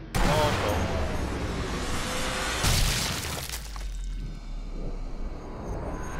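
Sniper rifle fire in the World War II shooter Sniper Elite V2 opens with a sharp blast and a loud crack partway through, each trailing into a rumbling, echoing decay over game ambience.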